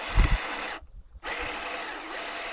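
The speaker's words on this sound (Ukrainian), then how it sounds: "А ну давайте ще чорний шуруп закрутимо" A power drill fitted with a cheap Aliexpress drill-tap bit drives a black screw, its steady whine cut by a short pause before resuming, close and loud with no talking.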